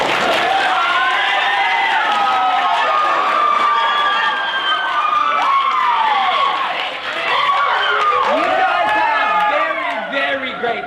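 A high school theater audience votes for the play Pot of Gold with loud, sustained cheering, shouting and screaming voices, with clapping mixed in, rising and falling across the whole stretch.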